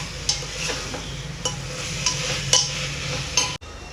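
Stew ingredients fry in a pan with salt added, a low steady sizzle broken by several sharp spoon clinks and stirring scrapes against the metal, ending in a sudden cut, no voices.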